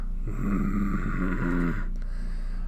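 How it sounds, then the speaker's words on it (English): A single drawn-out snore rumbles for about a second and a half, close and steady over a constant low hum, then a faint rustle. "Snore. Well, yeah, sounds like he's out."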